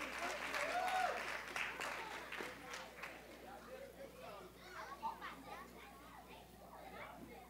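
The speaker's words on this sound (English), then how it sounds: "Can you give him a round of applause," Audience applause for pre-K children at an Early Learning Center Black History Month program, steady clapping mixed with children's voices and chatter, loudest at the start and thinning into scattered claps and kids talking.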